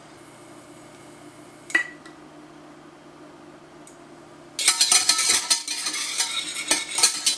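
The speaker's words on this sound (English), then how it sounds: "What I'm going to do now is just let this heat up and brown off a little bit." A butter and flour roux heating and browning in a pan, quiet at first with a hiss that drops away, then a loud close burst of scraping stirring and crackling sizzle in the last few seconds, no talking.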